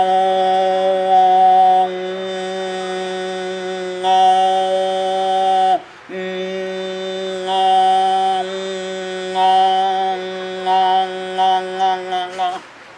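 A single voice sings a steady, sustained vocal tone, then moves into a two-tone sound and back, with several held phrases separated by short breaths and a few brief clipped notes at the end.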